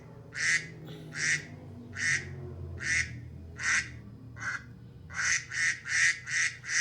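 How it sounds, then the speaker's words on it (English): A duck quacks repeatedly, nasal calls spaced about a second apart, then a faster run of five quacks at the end, close and clear with no other sound. "The quack of a duck."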